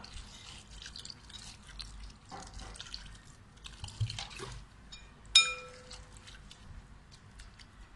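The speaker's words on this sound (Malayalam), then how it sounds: "ഈ വേപ്പല മുങ്ങിക്കിടക്കാൻ പാകത്തിനുള്ള വെള്ളം ഒഴിച്ചിട്ട് വെക്കാം" Water pours into a kitchen bowl of neem leaves, a faint trickle with scattered drips in a quiet room, then a sharper clink near the end.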